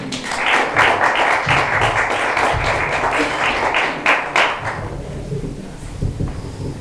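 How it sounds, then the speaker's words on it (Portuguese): A church congregation claps in a burst of sharp, dense handclaps that thins out and fades toward the end, with scattered final claps. "As palmas louvam o Senhor."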